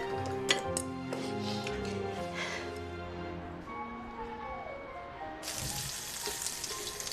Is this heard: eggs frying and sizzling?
yes